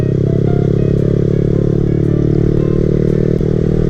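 A 2020 Yamaha R15 motorcycle idles steadily up close, a loud continuous engine drone with a faint clatter and no voices.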